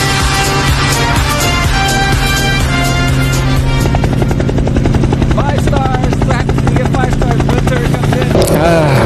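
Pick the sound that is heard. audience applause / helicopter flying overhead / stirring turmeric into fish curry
helicopter flying overhead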